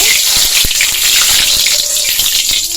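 Jute leaf fritters fry in hot mustard oil in a kadai, a loud, close, continuous bubbling sizzle with a few small pops.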